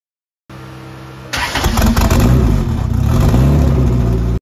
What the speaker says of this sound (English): It's got two mufflers on it and it's really quiet. It sounds like a freaking golf cart.